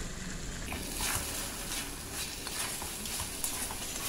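Bottle gourd with grated coconut is stirred in a frying pan, with a steady close sizzle and repeated scraping strokes throughout.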